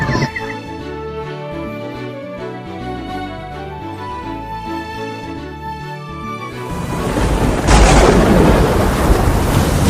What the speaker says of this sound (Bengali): এই ঝড় আমরা সামলে নেব।